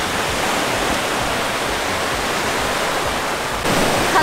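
Sea waves at Enoshima, a steady, loud broadband wash of surf that holds through the clip, with a brief dip before it swells again near the end.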